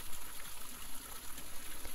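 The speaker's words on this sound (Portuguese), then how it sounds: "vamos dirigir continuamente, consistentemente, a nossa atenção ao som da água corrente" Continuous gushing, trickling water with a soft, even flow, close and fairly quiet, serving as the point of attention in a meditation session; no one speaks.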